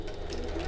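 A domestic sewing machine back stitching at the start of a seam on a shoulder bag, a steady close mechanical whir running continuously through the brief moment.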